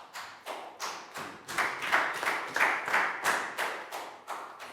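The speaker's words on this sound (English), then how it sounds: "a big round of applause for Pat" A classroom of young pupils in a Year 4 English phonics lesson claps for a classmate, a steady run of about a dozen sharp, rhythmic group claps, close and fairly loud, swelling slightly in the middle.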